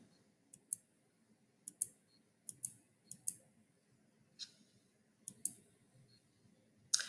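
Soft, sharp computer mouse clicks in a quiet room, spaced irregularly and several in close pairs, faint and alone over a low background hum.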